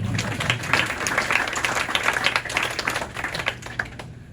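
Steady applause from a crowd at a scholarship awards ceremony, dense overlapping claps sustained throughout at moderate loudness.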